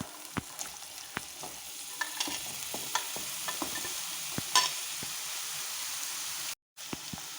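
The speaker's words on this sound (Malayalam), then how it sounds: "നമുക്ക് പാവയ്ക്ക ഇട്ട് കൊടുക്കാം" Sliced bitter gourd hits a pan with turmeric and starts frying, a soft sizzle under scattered sharp stirring clicks and taps, with a momentary silent gap near the end.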